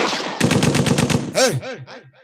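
Gunshot sound effect from an Angika-Maithili nach stage drama: a loud, rapid burst of gunfire followed by a few ringing, echoing shots that fade out.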